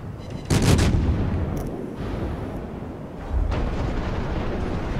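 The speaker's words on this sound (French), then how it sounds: "Papy continue à arroser méthodiquement le Gneisenau" Naval artillery fire aimed at the German battleship Gneisenau in World of Warships: a heavy booming salvo near the start, then a second deep blast later, over a constant rumbling battle ambience.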